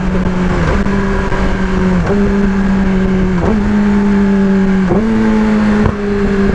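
A big bike motorcycle accelerates hard through repeated gear shifts, its engine tone climbing steadily and dropping at each change, loud and close with no talk.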